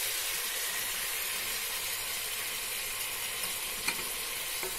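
Mixed vegetables with tomatoes and ginger garlic paste fry in a pan for veg biryani, a steady close sizzle and hiss running throughout with a faint stirring clink near the end.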